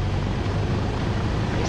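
Cessna 172 single-engine propeller aircraft powering up for takeoff roll, a steady loud broadband engine roar with a low droning hum, continuous throughout with no talk.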